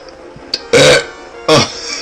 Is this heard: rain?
no